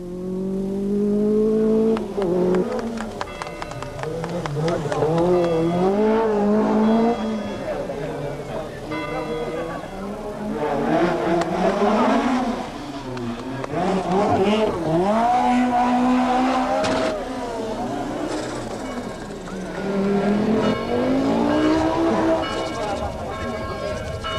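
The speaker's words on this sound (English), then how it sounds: "The 205 Turbo 16 is an out-and-out racing machine, uncompromisingly designed for the demands of the sport." A Peugeot 205 Turbo 16 rally car races on a Corsica rally stage, its engine revving and rising and falling in pitch throughout, heard under a narrator's steady voice.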